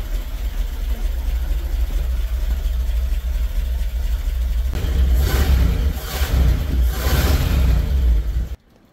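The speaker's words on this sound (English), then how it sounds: "Got a lot of valve train noise" A 1970s Mercedes engine, run again after 20 years, idles roughly with clattering valve-train noise, a steady low rumble, then rises in a few brief revs before cutting off abruptly.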